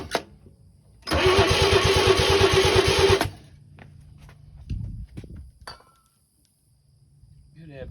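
An 80-year-old Chevy 216 six-cylinder, long dead, cranks for about two seconds with a rhythmic, close churning. It then stops, leaving only faint clunks and handling noises afterward.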